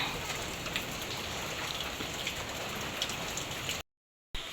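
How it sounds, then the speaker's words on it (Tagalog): Steady rain falls during a typhoon in a hillside area, a dense even hiss of drops on surfaces with scattered louder spatters, briefly cutting out near the end. "So ayan po at ambon na lang po."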